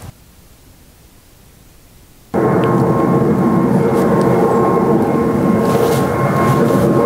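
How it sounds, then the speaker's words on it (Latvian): Civil airplanes pass overhead, a broad, loud roar that arrives suddenly after a quiet stretch and holds steady, with a faint engine hum running through it. "Lido lidmašīnas. Labi, ka civilās."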